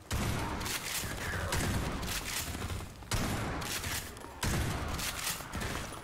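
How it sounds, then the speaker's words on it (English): Shotgun blasts in Half-Life 2 (MMod), several loud booming shots in quick, irregular succession with sharp onsets and short decays. "Gotta love the shotgun."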